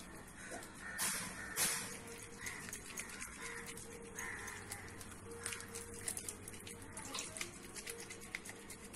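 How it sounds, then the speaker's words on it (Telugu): Water runs steadily from a tap while a face is rinsed after a homemade face wash. The hiss is moderate and continuous, with a few louder splashes and no talking. "ఇప్పుడు వాష్ చేసుకుంటుంది."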